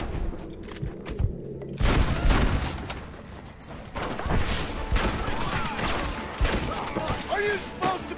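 Gunfire in a Red Dead Redemption battle, repeated sharp shots and booms at varying distances, some loud and close, others fainter, with voices shouting in between.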